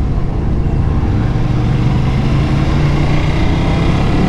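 A Ducati motorcycle of about 800 cc hums along while being ridden, a dense, continuous engine drone with a faint pitch rising slowly beneath steady wind-like rush, loud and close.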